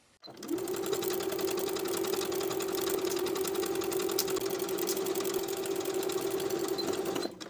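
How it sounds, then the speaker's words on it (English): A sewing machine runs at a steady high speed, stitching bias binding around the armhole of a tank top with a 3/8 inch seam allowance. The even mechanical whirr and rapid needle patter carry on unbroken for several seconds. "Then we can sew our bias binding in place around the armhole with a 3/8 inch seam allowance"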